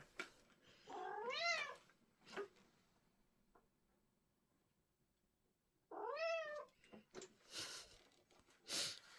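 A cat meows twice, a rising-falling wail early on and another longer, insistent meow later, with small clicks and quiet gaps between.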